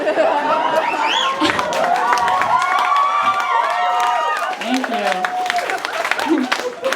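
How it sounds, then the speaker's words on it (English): A stand-up comedy audience breaks into loud cheering and applause, with whoops, shouts and laughter layered over continuous clapping, close and dense throughout; a voice speaks briefly amid the noise. "Hold the applause"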